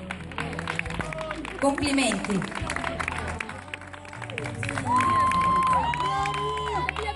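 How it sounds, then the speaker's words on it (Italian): Applause and cheering from a crowd at a music festival award ceremony, a busy mix of clapping and voices that swells toward the end while a presenter talks over it. "Ancora un applauso."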